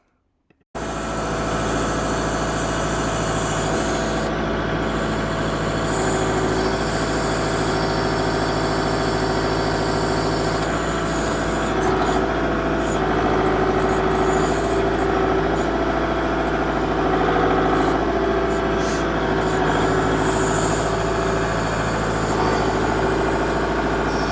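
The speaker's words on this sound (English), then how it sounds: "Really a good smooth backhoe to me." A Kubota L47 tractor-loader-backhoe's diesel engine runs steadily for over twenty seconds, a close, even drone with a smooth low hum, starting abruptly and holding constant throughout without talk.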